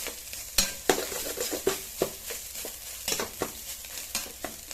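Tamarind rice mixed with masala in a steel pan sizzles softly while a spoon stirs and scrapes it, producing repeated close scraping strokes and clacks at an irregular rhythm, with no talking.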